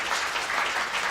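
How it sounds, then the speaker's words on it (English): Steady, dense applause from a conference audience at the closing remarks of an event, a close, continuous wash of many hands clapping with no voices above it. "Another big round of applause, please."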